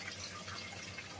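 Water pours steadily into a hydroponics system in a greenhouse, a soft continuous rushing hiss with no breaks, fairly quiet and unaccompanied by voices.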